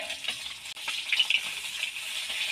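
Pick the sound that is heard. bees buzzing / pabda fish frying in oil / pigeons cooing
pabda fish frying in oil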